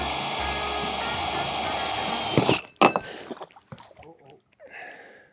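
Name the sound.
drilling a hole in a boat to mount a trolling motor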